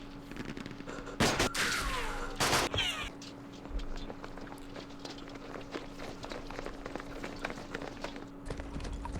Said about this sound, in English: There's some direct fire with our guns here.